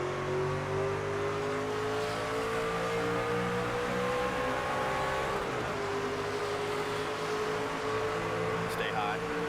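Truck race engines from the NASCAR 25 video game, career mode at Atlanta, drone steadily and loudly through the whole stretch, layered engine tones holding near-constant pitch with slight shifts, and no talk over them.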